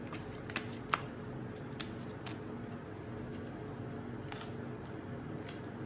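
Tarot cards shuffled steadily throughout during a reading, a soft continuous riffling with scattered light card snaps, close and fairly quiet, no talking.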